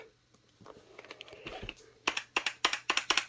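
Computer keyboard keys pressed on a Dell Inspiron 560 desktop setup, starting with scattered soft taps and building into a brisk run of sharp, close clicks near the end, alone without talk.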